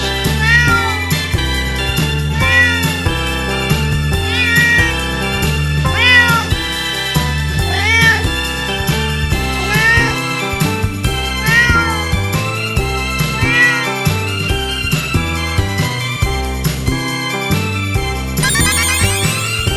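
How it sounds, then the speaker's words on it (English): Repeated short gliding meows from a cartoon orange cat sound throughout, set against a loud, bouncy children's music track. "Look, an orange cat."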